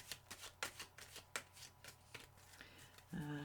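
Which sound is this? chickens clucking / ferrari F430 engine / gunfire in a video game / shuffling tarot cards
shuffling tarot cards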